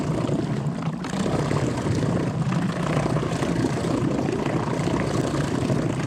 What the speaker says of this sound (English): Come on, trolling motor.